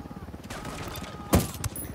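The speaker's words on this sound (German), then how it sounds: "Der Heli ballert auf mich." Helicopter gunfire in the video game Ghost Recon Wildlands: a sharp burst around the middle and a smaller one just after it, both over steady game noise and continuous talking.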